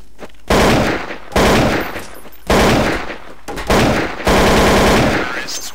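Five loud bursts of automatic gunfire in a Counter-Strike Source match, each a dense rattling volley about a second long, separated by short gaps and close to the listener.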